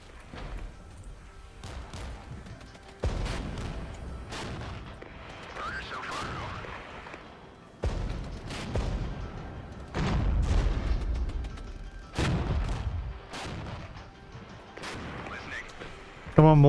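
Mortar and artillery fire in the tank warfare game MicroProse Regiments: repeated heavy booms and rumbling blasts at irregular intervals, some near and loud, mixed with battle noise and radio chatter over roughly seventeen seconds.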